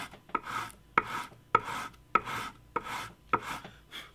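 Rhythmic, scratchy strokes of sandpaper along the grain of a solid-body electric guitar's wooden body, about seven even back-and-forth passes, close and clear with no talking.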